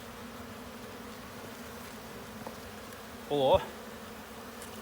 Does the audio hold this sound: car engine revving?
no